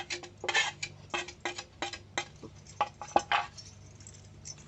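Chicken pakodi mixture worked by hand in a bowl makes irregular wet squishes and clinks against the dish, close and fairly quiet, in short uneven bursts.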